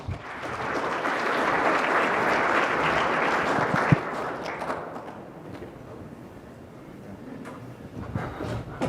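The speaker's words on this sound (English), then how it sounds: "please give a very warm welcome, loud round of applause to Jonathan and Braden" Conference audience applauding to welcome two speakers at a product marketing summit in Austin, a loud, dense roomful of clapping that swells, then gradually thins and fades toward the end.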